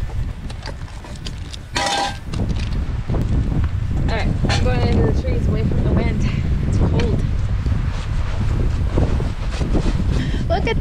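Wind buffets the microphone in a constant low roar outdoors in Central Oregon, with people talking faintly underneath.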